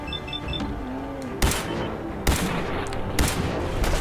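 Gunfire in the video game Fallout 4: Far Harbor, three loud, sharp shots spaced about a second apart over a steady background drone, with no voices.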